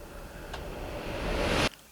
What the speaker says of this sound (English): I use samples from the pack a lot as risers and downlifters